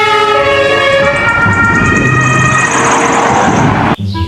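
A toy ambulance plays a loud electronic siren tone, steady and close, holding for about four seconds before cutting off abruptly.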